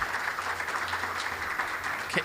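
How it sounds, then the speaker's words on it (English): Applause at a hockey association's annual awards dinner greets a volunteer being inducted, a steady patter of clapping from the room lasting a couple of seconds at moderate volume. "applause, please"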